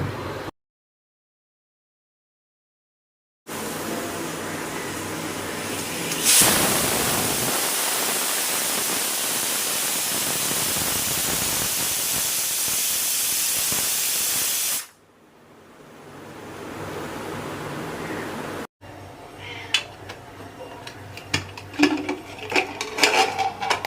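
A pressure cooker holding mutton curry lets out a loud, sustained steam hiss lasting several seconds, followed by a quieter stretch and then clattering kitchen noises.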